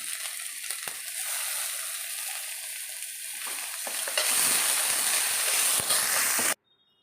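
Curry leaves hit hot oil and burst into a loud, close crackling sizzle that swells midway and then cuts off abruptly, alone without speech.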